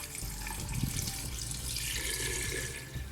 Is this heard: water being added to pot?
yes